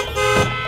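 A car horn blares in a stalled traffic jam, a single steady tonal honk lasting under a second over a busy roadside background.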